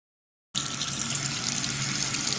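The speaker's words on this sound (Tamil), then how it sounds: "கழுவி சுத்தம் பண்ணி வச்ச மீனாலும் பொரிக்க முன்னாடி ஒரு 2 தண்ணி கழுவிடுவோம்" Running water starts abruptly and pours steadily from a tap into a sink as fish is rinsed, a continuous close splashing rush with no talking.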